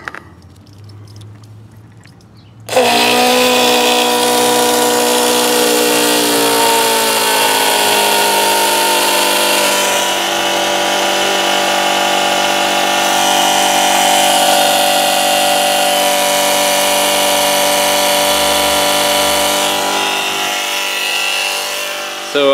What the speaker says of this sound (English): And we will connect the pump.